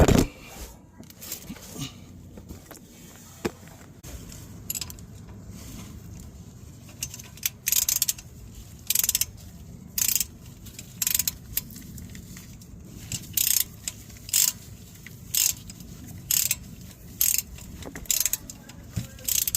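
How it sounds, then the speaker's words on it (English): Ratchet clicking as the transmission fill plug is tightened on a 1996-2002 Nissan R50 Pathfinder with manual gearbox, sharp bursts of rapid clicks in an uneven rhythm, starting after a few quiet metallic shuffles and growing regular toward the end. "I'm gonna go ahead and get our fill plug back in here."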